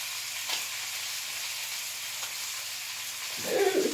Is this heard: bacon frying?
yes